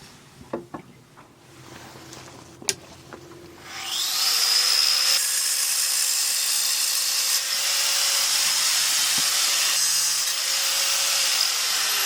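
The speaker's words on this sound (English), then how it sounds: "So I'm just gonna have to cut it with angle grinder." An angle grinder cuts screws aboard a sailing boat, spinning up after a few soft clicks into a loud, steady high-pitched whine that holds for several seconds.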